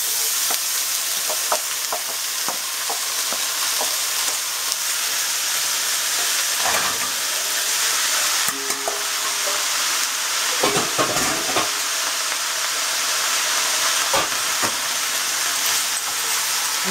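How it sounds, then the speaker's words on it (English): Kale sautés with browned roasted garlic in a pan, a continuous close hiss of frying broken by repeated scraping and knocking of a spatula, with bursts of stirring clustered around the middle and later stretches. "To this one, I'm going to add all the kale."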